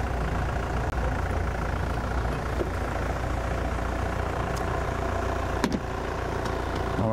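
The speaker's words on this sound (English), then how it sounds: "the Mahindra sounds not unlike a great bevy of tractors" Mahindra safari vehicle engine running at a steady low idle in the bush at sunset, a constant rumbling drone with a few faint clicks and no voices.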